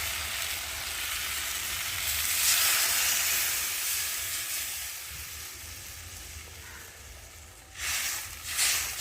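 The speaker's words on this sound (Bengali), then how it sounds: "ঝোলটা ফুটে গেছে" Rohu fish curry with potatoes in a thin gravy simmering in a pan, giving a steady close sizzle and soft bubbling hiss that swells briefly near the end, with no talking.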